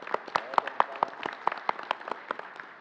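A live audience at a Brazilian carnival organisers' assembly breaks into scattered applause, with irregular close and distant claps lasting a few seconds and no voice over them.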